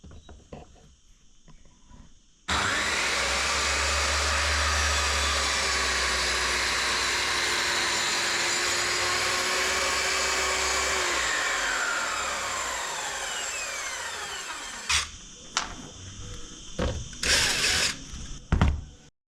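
A circular saw runs steadily in a homemade guide track for about twelve seconds, loud and close with a continuous whine, then spins down and ends in a few short bursts and clunks.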